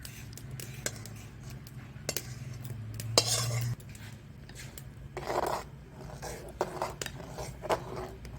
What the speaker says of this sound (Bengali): এই যে নাড়িয়ে চাড়িয়ে রাখছি